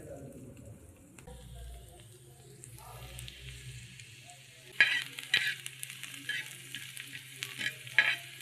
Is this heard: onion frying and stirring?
yes